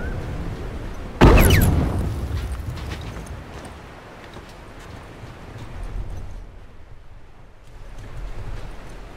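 A single heavy bomb blast booms out in a multiplayer match of The Last of Us Factions, loud and sudden, then rolls into a long rumbling decay over low background ambience.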